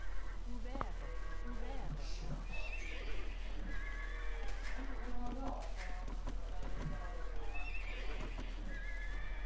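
Horses in the strategy game Age of Empires II whinny and clop amid the game's background effects, with several neighs scattered through the clip and people talking over the top.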